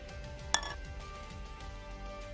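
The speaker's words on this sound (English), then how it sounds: "Add some fresh ice." Fresh ice dropped into a holiday cocktail glass after straining, a single sharp clink of ice striking glass against a low background hum.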